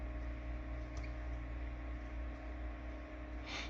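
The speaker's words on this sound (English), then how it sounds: "that's my fan, it's getting kind of hot in here." A small Arctic electric cooling fan runs indoors as a faint, steady low hum and airy hiss, quiet and continuous with a few tiny clicks.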